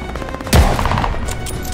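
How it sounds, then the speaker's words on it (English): MG42 machine gun in Call of Duty: Vanguard, set in Stalingrad 1942: a sudden loud burst of fire amid ongoing game battle noise, with a rumbling tail after the initial blast. "he's got an MG42"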